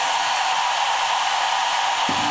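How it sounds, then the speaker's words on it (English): A hair dryer powered by a BLUETTI AC180 portable power station blows with a steady, loud whoosh throughout, and a low hum creeps in near the end. "Let's try this hairdryer one more time."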